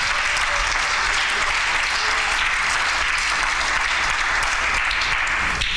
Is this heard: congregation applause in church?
yes